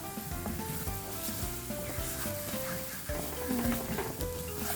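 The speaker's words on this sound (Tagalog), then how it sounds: "Kailangan mo talagang haluin ng mabuti para hindi siya masusunog." Taro and sweet potato mixture sizzling steadily in a hot pan while being stirred continuously, a dense frying hiss with soft scraping movements throughout, no talking.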